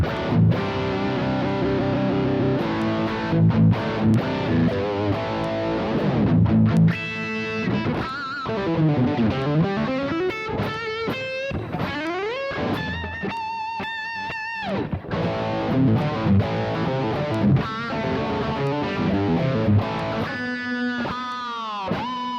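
A Westone Pantera X390 electric guitar on its bridge pickup setting plays a continuous run of chords and single-note lines with light distortion, loud and close, with no talk over it.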